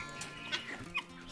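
Chickens clucking as they crowd and squabble over freshly poured feed, a few short, close clucks and squawks over farmyard background noise.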